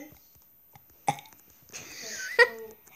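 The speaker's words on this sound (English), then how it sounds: "Here, guys, I can burp and everyone." A short burp from a young person stands out among quiet background noise and brief vocal sounds, one low rumbling belch followed by a sharp voiced release nearby.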